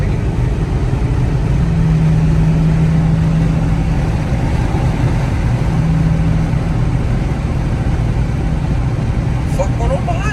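A 2023 Dodge Charger Daytona driving along, its engine a steady loud low drone with road rumble filling the cabin throughout, with a brief faint high chirp near the end.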